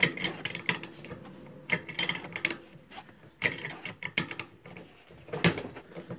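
Wrench work on the rear shock absorber mount nut of a Mercedes C180, giving bursts of ratcheting clicks and metallic turning in irregular spurts, close and moderately loud, with brief pauses between strokes.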